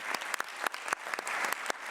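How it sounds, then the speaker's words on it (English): An audience at a UN food systems panel session on fertilizers gives the interpreters a round of applause: dense, steady clapping with sharp individual claps standing out, no talk over it. "could you give an enormous clap to our interpreters?"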